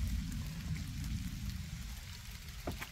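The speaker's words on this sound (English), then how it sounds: "So I guess it decided to rain." Steady rain falling at a deer camp during a storm, a dense, even patter with low rumbling wash that holds at a constant level throughout, with no voices.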